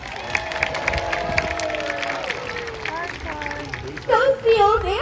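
An aquarium show audience claps for a sea lion trainer as crowd murmur fills the space, with tonal whistle-like calls and sharp bursts rising over the applause near the end.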